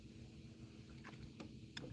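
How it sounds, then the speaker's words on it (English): Low, steady hum of a trolling motor vibrating through a boat hull while bass fishing at about 2 miles an hour on Lake Iamonia, faint and constant, with a few small knocks and clicks near the end. "Can you guys hear the trolling motor vibration through the hull of the boat?"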